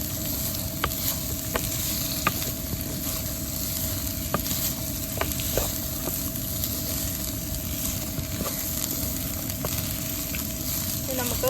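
Green beans (payar) fry in oil in a pan, with a steady low crackle and sizzle and scattered scraping clicks from stirring, heard close and fairly even throughout.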